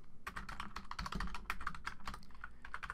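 Rapid, close clicking of keys on a computer keyboard as a line of text is typed, a dense irregular run of crisp taps with no voice over it.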